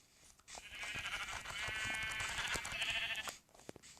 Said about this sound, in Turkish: Ben koyun gördüm.